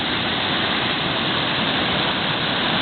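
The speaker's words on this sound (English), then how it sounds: "This is Rausch Creek, normally a placid little stream, but after our nice rainfall, as you can see, it's really zipping right along." Rausch Creek, a small mountain stream swollen by heavy rain into flood stage, roars in a loud, steady, dense rush of water with no pauses, close by.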